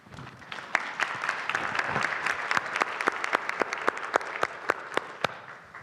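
An audience at a Civil Rights Act 50th anniversary panel applauds to welcome the moderator, steady clapping that builds quickly and holds, with a few sharp individual claps standing out near the front of the room.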